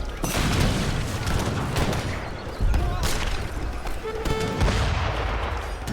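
Mortar and gunfire in an Age of Empires III battle, dense continuous booms and crackling shots layered over each other, loud and busy throughout with faint tonal game sounds.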